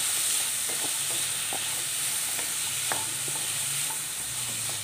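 Chopped green chillies and vegetables fry in a pan for pasta, giving a constant close sizzle with scattered light clicks and taps of a spatula stirring throughout.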